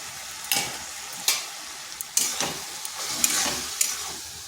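Spice paste frying in a pan under a constant soft sizzle, with a spatula stirring and scraping in irregular strokes about every second, close and with no talk.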